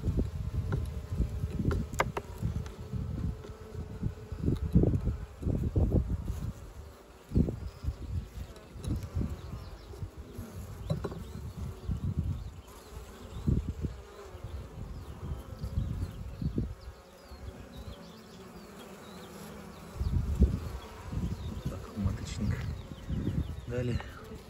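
Honey bees buzzing around a hive in an apiary, a low humming swarm with individual bees droning close past in repeated swells, alongside faint quiet talk and a bird in the background.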